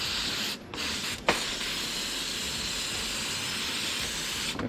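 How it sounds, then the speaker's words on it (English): Dry silicone spray from an aerosol can hisses in a long continuous blast onto a spark plug wire for a 1965 Dodge D100 331 Hemi, close and steady with two brief breaks. "Grab some dry silicone spray"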